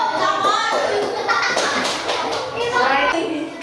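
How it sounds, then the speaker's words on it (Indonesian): Children applauding in an elementary school classroom, a dense, steady patter of many small hands clapping together, mixed with young voices talking and calling out. "Tepuk tangan untuk kalian semua."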